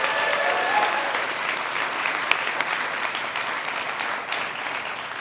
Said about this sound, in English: Let's have another round of applause for the Equality Illinois team.